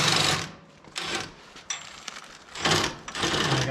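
Work on a 2021 Jeep Wrangler front upper control arm bolt produces bursts of harsh, grinding mechanical noise, likely from a power tool, with short gaps between them. The sounds are close and loud.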